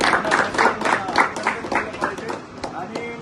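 Applause from a gathering at a cow shelter celebrating a birthday, marking a donation toward cattle fodder; a steady burst of clapping from a modest crowd, loud and close, lasting the whole moment.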